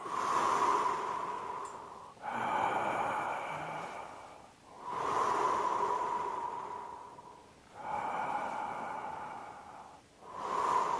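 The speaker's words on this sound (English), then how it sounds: "So let's do that again now with the open mouth, breathing up the back and falling out over the front." Slow open-mouth breaths for circular breathing practice, each long airy inhale and exhale rising and falling in a steady cycle roughly every two to three seconds, close and fairly loud, with no talking.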